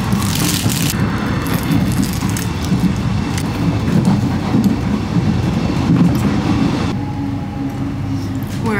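Steady low rumble of a train carriage rolling along rails in Melbourne, loud and continuous with faint rhythmic clatter throughout.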